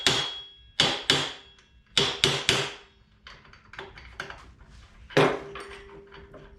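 Sharp metallic hammer taps knocking a spindle off a Goped Big Foot scooter, struck in small clusters with short pauses between, close and ringing, then softer lighter taps.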